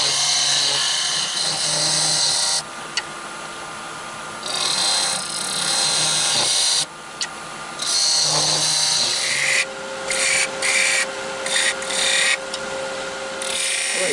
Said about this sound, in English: what I'm going to do now is turn these little ridges in this piece, finish sanding that piece down